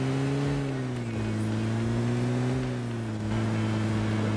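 A car engine drones steadily in the PUBG video game, a close, even motor hum held at nearly constant pitch with slight shifts, no talk over it.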